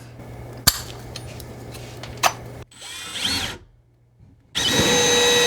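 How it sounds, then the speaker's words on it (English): A power drill bores with an auger bit during bathroom supply plumbing work, giving sharp clicks and a short whining spin-up, a brief pause, then a loud sustained grinding burst close by. "Pushing that hard and making smoke appear is actually a good way to dull out your drill bit."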